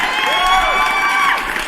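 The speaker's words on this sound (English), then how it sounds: "Let me give you guys a round of applause." A crowd cheering and clapping as a round of applause sound effect, loud and continuous with whoops and shouts layered over the clapping for the whole short burst.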